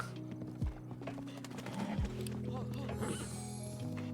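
Hooves of a horse in a video game clip-clop in a steady rhythm over tonal game music, with a brief neigh.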